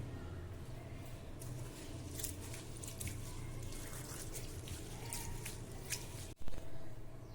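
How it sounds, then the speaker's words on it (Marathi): Split lentils and rice are rinsed clean with water for masala khichdi, giving faint sloshing, trickling and dripping close by, then a brief louder clunk and splash near the end. "डाळ तांदूळ पाण्याने स्वच्छ धुवून घेऊ।"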